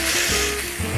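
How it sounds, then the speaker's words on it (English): Chicken pieces laid into a hot oiled pan sizzle with a steady, close hiss and faint crackle over one brief moment, no voices. "Could you hear that sizzle right there?"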